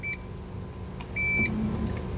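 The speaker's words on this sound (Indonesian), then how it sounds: "kalau udah beres dia bakal bunyi bip" A Toyota Alphard G Welcab HEV e-Four power seat gives a short electronic beep when its adjustment finishes. A longer beep follows over a low cabin hum, and no one speaks.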